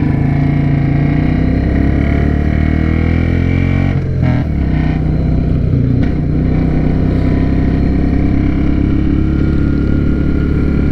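A Royal Enfield Classic 350 motorcycle thumps along steadily on a test ride, its engine loud and close with a constant low, pulsing drone and a brief dip in the middle.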